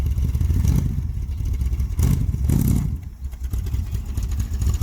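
A vintage street machine engine runs at a low, rough idle, a steady near rumble with some clatter and a couple of brief swells in level throughout.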